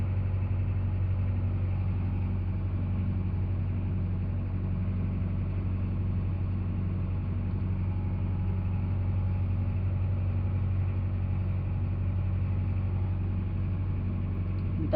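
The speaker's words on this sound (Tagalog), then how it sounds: "Para lang naman medyo minute-init yung makina at mag-circulate lahat ng mga gumagana na oil." A backhoe engine idles steadily while warming up before operation, giving a constant low diesel rumble with an even hum that does not change for the whole stretch and has no talking over it.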